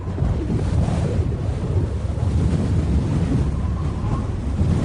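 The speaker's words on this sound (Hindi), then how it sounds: "एक तूफान आया और जोर जोर की हवाएं चलने लग पड़ती हैं" Strong stormy winds rendered as a cartoon sound effect, a continuous loud roaring gust with a surf-like rush that stays steady from start to finish, with no voices.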